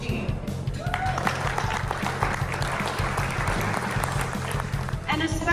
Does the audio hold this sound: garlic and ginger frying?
no